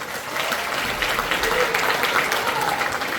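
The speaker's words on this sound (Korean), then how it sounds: "시국 토론회를 큰 박수로 시작하겠습니다" A hall audience gives a steady round of applause to open a political party's current-affairs debate forum, dense and even clapping that fills the room without a break for about three seconds.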